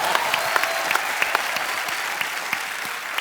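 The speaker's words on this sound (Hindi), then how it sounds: "जोरदार तालियां।" A studio audience at a Hindi comedy talk show bursts into steady, loud applause, a dense wash of clapping hands that carries on evenly throughout with no voices on top.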